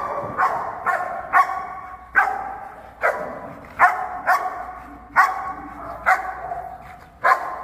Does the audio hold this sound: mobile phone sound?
no